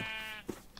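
A sheep in the video game Minecraft gives a single short, nasal bleat, up close and fairly quiet, followed by faint background clicks.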